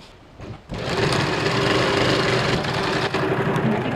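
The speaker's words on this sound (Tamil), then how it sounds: "இப்போ இதில் நான் ப்ரெஸ் தையல் போட போகிறேன்" A sewing machine stitches a blouse, starting after a short quiet lead-in with a thump, then running in a fast, steady mechanical whir of rapid needle strokes, close and loud, with a brief dip near the end.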